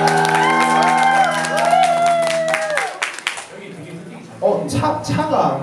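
A concert crowd at a band's EP showcase in a small club bursts into applause, whoops and cheers, strong at first over the fading music, then dying down into scattered clapping with a few shouts.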